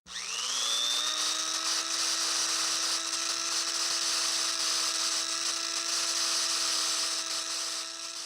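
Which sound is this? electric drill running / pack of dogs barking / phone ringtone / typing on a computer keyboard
electric drill running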